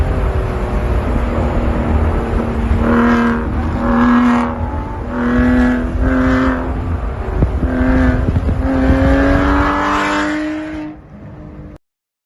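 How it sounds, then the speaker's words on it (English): A man's own car plays back with its engine revving and accelerating in several surges, a loud, steady motor drone rising and falling over about eleven seconds before cutting off. "I'm just going to play you videos of my car over and over and over again."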